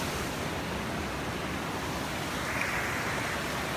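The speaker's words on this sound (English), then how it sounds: "So here we are again at the scenic waterfall." A scenic waterfall along the Algonquin Highland backpacking trail gives a steady, dense rushing roar, constant and fairly close, with no voices over it.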